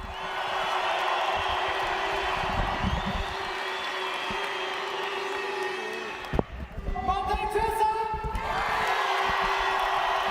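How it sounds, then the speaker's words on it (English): Large crowd at the Freestyle Of Nations 2023 freestyle competition in Berlin roars and cheers for competitor Matej Cesak, a steady wall of broad crowd noise with a brief dip and swell partway through, voices shouting within it. "Matej Cesak is getting a big cheer"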